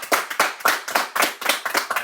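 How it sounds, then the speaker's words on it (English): Hands clapping for a guest on a podcast, a few people striking about a dozen loud, close claps in a fairly even rhythm with short gaps between them. "clap it up for Tate Bless"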